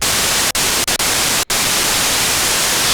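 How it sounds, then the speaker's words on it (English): Steady hissing white noise from a Korg Monologue synthesizer's noise oscillator fills the whole clip, loud and uniform, with a few brief dropouts cutting it momentarily. "No, yeah, it sounds like white noise."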